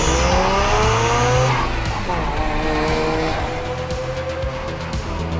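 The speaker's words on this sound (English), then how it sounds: "It's just the way that a rotary sounds." Loud, continuous engine roar from a 1.3-liter rotary-engine car making 350 horsepower, revving up and holding high revs, with rising and falling pitch and possible tire squeal, close and steady throughout.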